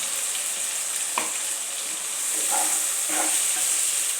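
Ginger, onion and garlic paste fries in hot oil, giving a steady, close, hissing sizzle with a few soft stirring scrapes and no voices.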